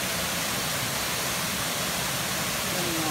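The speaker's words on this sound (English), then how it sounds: "this is the Palamunso waterfall" Steady, loud rushing of the Pala Munsoh waterfall in Ulu Sarikei, Sarawak, a dense unbroken roar of falling water filling the whole scene at close range.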